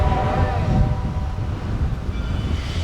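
Cass Scenic Railroad train pulling away at departure, a steady low rumble with faint tonal ringing early on, mid-distance and continuous.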